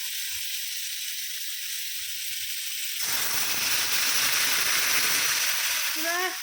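Water poured into a hot frying pan of fried lentil dumplings (bori) bursts into a loud, steady sizzle and hiss that starts abruptly partway through, after quieter frying, with a few faint tones near the end.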